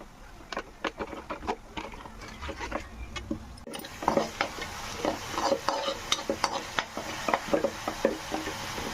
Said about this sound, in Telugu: ముక్కకి ఇలా కలిపితే ముక్కకి కారం పడుతుంది బాగా.